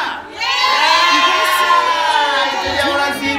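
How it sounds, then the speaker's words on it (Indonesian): A large crowd cheers and shouts loudly and continuously, with children's voices mixed into the roar, at a lively celebration. "Dengar sorakan orang sibuk macam mana?"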